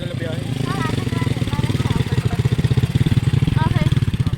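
A nearby motorcycle engine chugs in a rhythmic, pulsing beat that grows louder, heard on a road trip to Agbobotilya River in Zambales, with people talking over it.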